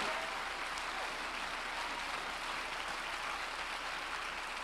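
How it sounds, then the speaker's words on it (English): A church congregation clapping together during a revival-style service, a dense, steady wash of many hands sustained at an even level throughout, with no speech over it. "Why don't you clap your hands like there's power in now"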